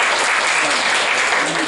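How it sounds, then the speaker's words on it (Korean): Dense, steady applause from a seminar audience fills the room, loud and continuous from start to finish with no gaps. "훌륭한 답변에 다시 한번 박수"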